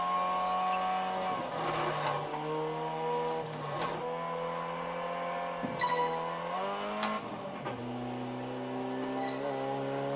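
A car engine bogs down while climbing uphill in the Test Drive Unlimited 2 driving game, a fairly quiet, steady droning hum that dips and recovers several times without anyone speaking.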